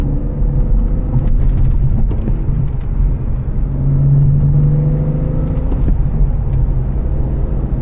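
Car engine, not yet warmed up, revved gently and slowly: a steady close idle rumble that swells in a mild, drawn-out rise and settles back, with no talking.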